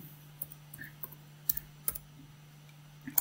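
Typing on a computer keyboard, a handful of sparse, light key clicks spaced irregularly, close and quiet under a faint steady hum.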